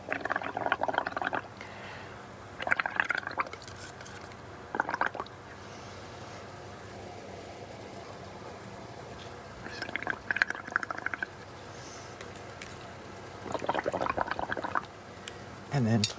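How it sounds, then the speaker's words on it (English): Several short bursts of bubbling come from blowing through a straw into a paint and water mixture, each gurgle lasting about a second, separated by quiet pauses with faint background hiss. "Stir that around. Blow bubbles."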